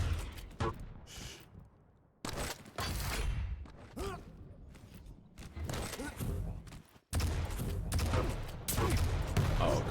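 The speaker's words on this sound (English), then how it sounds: "Oh, great rockets." Rocket launches and blasts punctuate an arena shooter duel, with bursts of booming impacts and rapid firing separated by brief lulls, plus mechanical clanks and thuds of in-game action.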